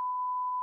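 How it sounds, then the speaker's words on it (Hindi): A single steady electronic timer beep marks the start of a water-drinking challenge, a clean sustained tone lasting under a second with nothing else audible. "टाइमर स्टार्ट कर दे"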